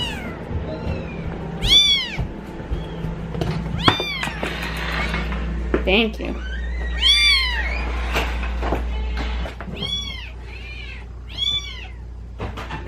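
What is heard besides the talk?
kittens meowing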